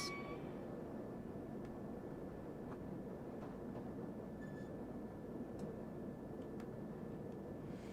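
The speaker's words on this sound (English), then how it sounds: "let us bring the train to a halt." A London Underground Bakerloo Line train in a railway simulator game rumbles steadily as it slows into a station, a constant low drone with a faint high whine and occasional light clicks, no voices.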